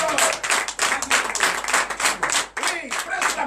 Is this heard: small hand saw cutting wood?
no